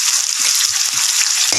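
Spices stir-fried in a pan for a wasp larvae dish give a loud, steady sizzle and crackle throughout, with no voices.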